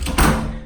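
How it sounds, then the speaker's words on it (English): A hotel room door slams shut with one heavy, close thud and then rings out briefly in the room. "Shut the door, excuse the bang."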